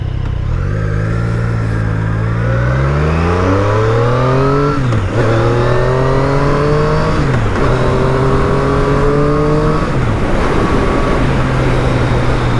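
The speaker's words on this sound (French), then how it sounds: "Ça accélère bien. Pour une moto bridée, pour se faire la main." Restricted A2 motorcycle accelerating hard close by, its engine note climbing through several gears with brief dips at each shift, loud and continuous throughout.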